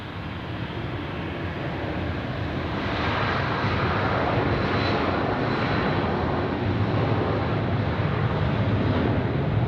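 A Finnair airliner departs Zurich airport with a steady, loud jet engine roar that swells slightly and holds strong throughout, broadband and continuous, heard from an outdoor spotting position with no talking.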